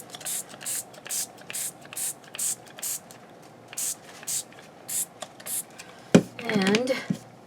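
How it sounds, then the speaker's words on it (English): A handheld spray bottle mists water onto tissue paper in a steady series of about a dozen short hissing squirts at close range. A voice and some handling noise follow at the end. "Now, I need my spray bottle."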